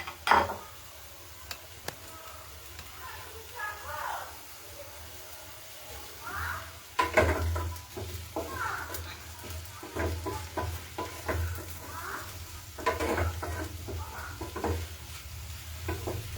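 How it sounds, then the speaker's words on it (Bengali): Halved mushrooms frying in butter with garlic and onion, a quiet, low sizzle broken by bursts of spatula stirring and scraping against the pan, close by, with no voices. "মাশরুমগুলো বাটার এবং গার্লিক অনিয়নের সাথে একটু কিছুক্ষণ ভাজা হবে।"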